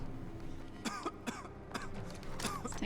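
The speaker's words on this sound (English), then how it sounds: "Oh, I'm coughing" The player character in the crime game Mafia: The Old Country coughs in several short, rough bursts spaced through a few seconds, set over a steady low game ambience.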